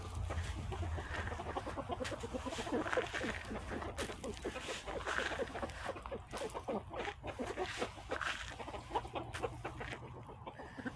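A flock of chickens clucks and murmurs continuously, with overlapping busy calls throughout, fairly close and steady.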